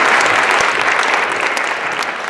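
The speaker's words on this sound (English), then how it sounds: "Let's give these volunteers a nice round of applause." Audience applause greeting four volunteers as they come up on stage at a live math-magic show, a dense, steady burst of clapping that stays loud and even throughout, with no talking.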